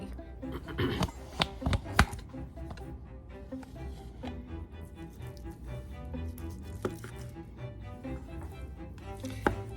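A knife slicing partly frozen beef, steak such as round eye, tip or flank, into quarter-inch strips for jerky. Sharp, close cutting taps and scrapes come in irregular bursts, clustered at the start, over a low steady background.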